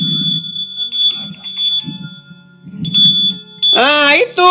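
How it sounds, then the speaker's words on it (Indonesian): A bell rings with sustained, bright metallic tones that start and stop in several bursts, and a voice speaks briefly in between. "dengar suara lonceng"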